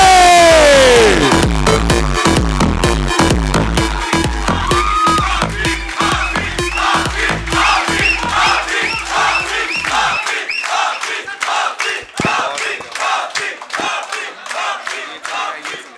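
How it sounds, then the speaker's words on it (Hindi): At a 2019 mushaira in Faisalabad honouring poet Tehzeeb Hafi, a large audience roars and cheers loudly at first, then settles into rhythmic, evenly timed group clapping that keeps a steady beat to the end. "आप सबकी भरपूर तालियों में तहसीब हाफिज।"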